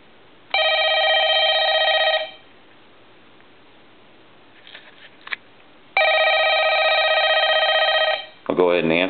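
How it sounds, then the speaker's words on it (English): An old Dragon telephone's ringer bell rings in two long loud bursts separated by a quiet gap, with a brief clatter between them and at the end. "I'm going to go ahead and turn the ringer back on."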